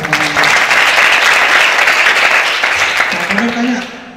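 A church congregation claps loudly and steadily for several seconds, with voices rising under the applause as it fades.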